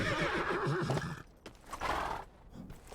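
Horses in the video game LEGO The Lord of the Rings give a loud, close whinny followed by a shorter neigh, with light hoof clip-clop underneath over a few seconds.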